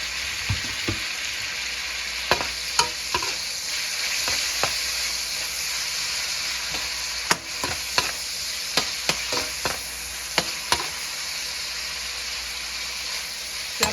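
Shrimp sautéing in a hot pan for a mung bean stew: a steady, close sizzle runs throughout, broken by scattered sharp clicks and scrapes as a utensil stirs the pan, with no voices.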